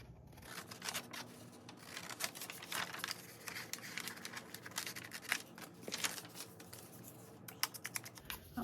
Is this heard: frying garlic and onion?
no